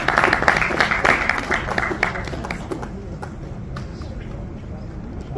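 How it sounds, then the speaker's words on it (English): Applause from an audience at a calligraphy exhibition and seminar in Bengaluru, India, loud clapping at first that thins and fades toward the end, with some crowd murmur beneath. "Where is the applause for Mr. Mazhar Bhaiya?"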